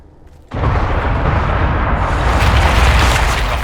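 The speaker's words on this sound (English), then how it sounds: "Explosions in an underground ruin." A deep explosion erupts in a video game's underground ruin, a sudden loud boom that swells into a sustained, roaring rumble with no voices over it.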